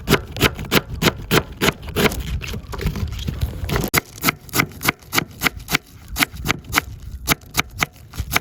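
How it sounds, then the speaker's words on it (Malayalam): Lengthwise cuts through a cabbage with a knife produce a steady run of crisp, close chopping strokes, evenly spaced and continuing without talk over a faint background hiss. "ഈ ക്യാബേജ് നമുക്ക് നീളത്തിൽ കട്ട് ചെയ്യാം"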